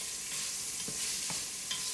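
Garlic frying in oil in a pan, a steady bright sizzle throughout with a few soft stirring scrapes, close and fairly loud with no voices.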